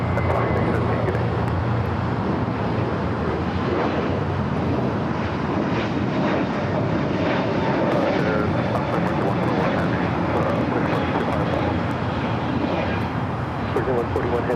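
A United Airlines Airbus A321neo takes off from LAX with a loud, sustained engine roar that fills the whole stretch and stays steady throughout, with voices speaking faintly in the background.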